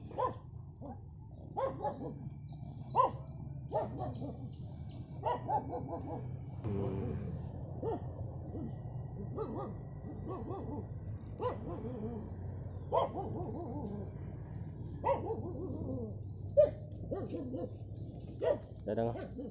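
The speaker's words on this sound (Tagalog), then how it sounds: "Yan may aso guys." A dog barks repeatedly at a distance, sharp irregular barks over a murmur of people talking.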